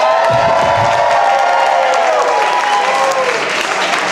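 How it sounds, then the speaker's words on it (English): A New York comedy club audience at a one-liner show breaks into loud, sustained applause and cheering, with whoops and shouts riding over steady clapping throughout. "Audience, make some noise if the person that you want to hear more from is Mike Kaplan"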